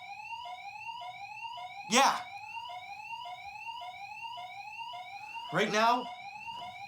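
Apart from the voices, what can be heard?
alarm going off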